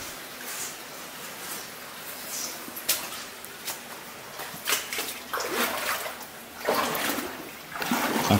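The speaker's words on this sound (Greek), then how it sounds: "Ακούτε, έχει συνέχεια νερό" A stream running through the Peristeria gorge near Kyparissia, heard as a steady broadband wash of flowing water with intermittent splashes and sloshes growing louder toward the end, close by and without speech.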